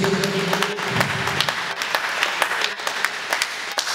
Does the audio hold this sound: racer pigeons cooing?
no